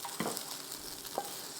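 Spätzle sizzle and crackle steadily in a frying pan, a close, soft frying hiss with a couple of faint clinks from stirring.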